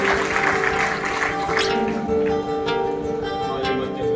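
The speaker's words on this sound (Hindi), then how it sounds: "जोरदार तालियों से स्वागत करें" Audience applause welcomes a speaker at a community event for a free computer education centre in Gwalior. Steady, dense clapping holds at an even level throughout, with a sustained tonal hum underneath.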